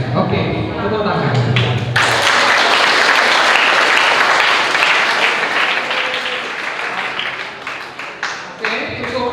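A group gives loud, enthusiastic applause after a dental health talk at a clinic. The close clapping begins abruptly, stays dense and strong for several seconds, then breaks into scattered claps as voices return.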